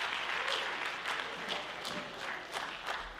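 Audience at a jazz improvisation clinic breaks into steady, sustained applause, a dense wash of many hands clapping together at even loudness throughout.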